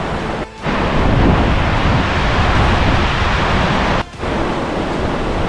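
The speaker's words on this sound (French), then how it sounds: "je suis arrivé devant la cascade" Winter waterfall in Fulufjället National Park, Sweden, roaring as a loud, steady broadband rush of falling water with snow around, continuous and close, with two brief dips in the noise.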